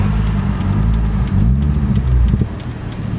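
Engine of a big-turbo Volvo 850R car running steadily, heard from nearby with a constant low rumble and some rhythmic pulsing, no talk over it.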